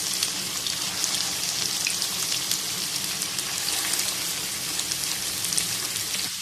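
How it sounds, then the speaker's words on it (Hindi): Chicken koftas fry in oil over a low flame, giving a constant dense sizzle and crackle that stays even throughout, close and fairly loud, with no talk. "अब हम ये कोफ्ते ऑयल में ऐड करेंगे और इनको हल्का हल्का फ्राई कर"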